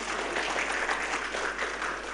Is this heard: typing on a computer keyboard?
no